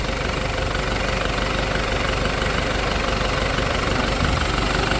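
An Isuzu 4JX1 diesel engine idles steadily and close up, a dense continuous rumble with a faint knocking texture and no change in pace throughout.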